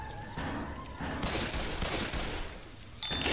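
Rapid gunfire and heavy shots from weapons in the zombie shooter Left 4 Dead 2, a dense continuous fusillade with thuds, ending in a sharp high ringing burst.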